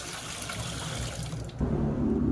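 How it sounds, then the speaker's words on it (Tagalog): Water gushes into the drum of a dirty washing machine being filled for soaking, a steady splashing flow that thickens and grows louder partway through, with no talk. "So, babaran ko muna siya ng tubig."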